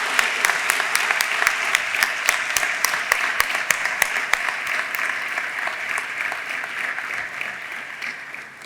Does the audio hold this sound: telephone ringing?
no